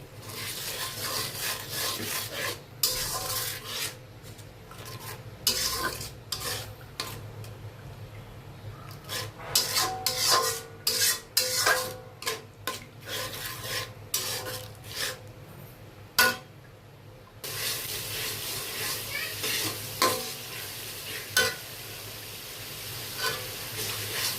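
Food sizzles and fries in a pan, with frequent scraping and stirring strokes of a utensil, then water is added and a louder steady hiss follows near the end.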